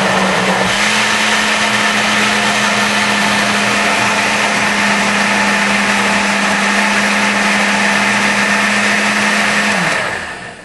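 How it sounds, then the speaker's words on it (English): A blender mixes cheesecake filling with vanilla, giving a loud, steady, close motor whir that runs for about ten seconds before winding down and stopping. No one talks. "So now we want to blend that well."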